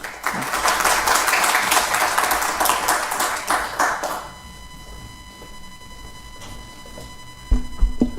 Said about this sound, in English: please give applause to both our speakers for excellent presentation